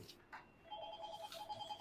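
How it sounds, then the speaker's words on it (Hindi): A phone rings during a chemistry class on optical isomerism, a faint repeating electronic ringtone pattern in quiet surroundings. "जीजा जी का फोन आ रहा है, अभी क्लास लेते समय आ रहा है"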